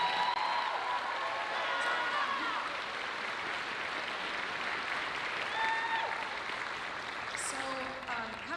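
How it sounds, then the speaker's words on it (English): A high school choral concert audience gives a long, steady round of applause to welcome a student composer, with scattered cheers and voices rising over the clapping. "Can you please give Vivek a big round of applause to welcome him"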